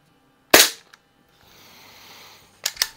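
A Crosman 2200 Magnum .22 caliber pump air rifle, repaired, fires one sharp crack, followed after a soft hiss by two quick close cracks.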